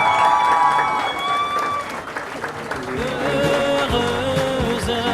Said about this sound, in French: on se lève et on applaudit très,